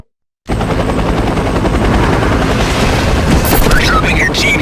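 A helicopter in an action video game sounds as a loud, steady rotor roar with booms and gunfire-like bursts mixed in, while a voice talks over it.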